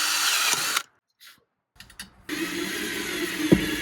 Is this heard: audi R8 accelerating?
no